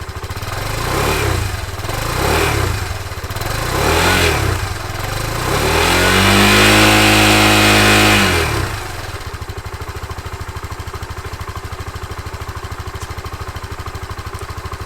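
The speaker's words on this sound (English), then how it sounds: "let's start up the bike and listen to the sound of the mighty stock exhaust system" Suzuki VanVan motorcycle on its stock exhaust, revved several times in short bursts, then one longer, higher rev before it drops back to a steady idle; close and fairly loud, with no voices.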